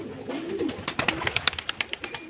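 A pigeon held in the hand coos and flaps or struggles, giving a quick run of about a dozen sharp, rhythmic bursts after a softer low coo, close and fairly loud with no talk.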